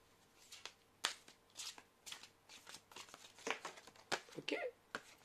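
Tarot cards are shuffled by hand in a quiet room, giving a run of soft, uneven riffles and papery slaps. Faint speech is barely present underneath.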